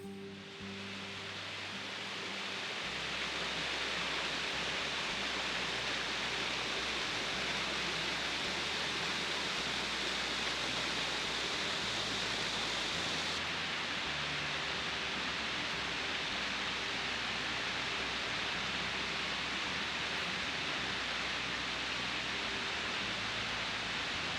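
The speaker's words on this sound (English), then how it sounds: "the main reason we went was for this spectacular waterfall." A spectacular waterfall, a steady broadband roar of falling water that swells up in the first seconds and then holds evenly and continuously, heard alone with no voices.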